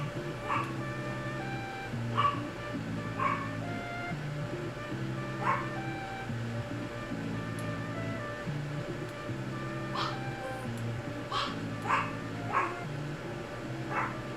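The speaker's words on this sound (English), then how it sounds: "Here goes the dog again." A dog barks in short repeated bursts inside the Farming Simulator 19 game, set against a steady tonal hum and periodic mechanical pulses, with occasional faint talk in the background.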